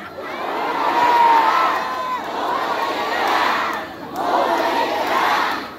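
A large political rally crowd shouts and cheers loudly in sustained waves, three big swells of massed voices with no single speaker standing out.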